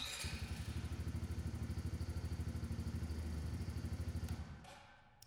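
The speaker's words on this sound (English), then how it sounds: "Start the vehicle to verify the battery is properly connected." A Polaris Outlaw 70 youth ATV engine, 2021 or later, runs with a steady rapid mid-pitched chug for about four seconds, then cuts off sharply and falls quiet.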